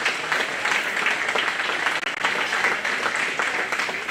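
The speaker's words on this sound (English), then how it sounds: "Let's give all these 4 kids one more big round of applause, please" A county fair audience gives a big round of applause for four young livestock showmen, steady and full across the whole stretch with no voices on top.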